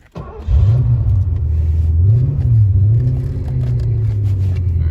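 A 1982 Porsche 928 starts and lugs at low RPM in first gear, its deep engine rumble rising and falling unevenly, loud and close, holding a strained drone throughout with no talking.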